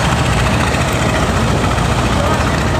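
The MKhan 7, a new river passenger launch on its river trial, passes slowly with a loud, steady, low engine drone that fills the whole moment without letting up.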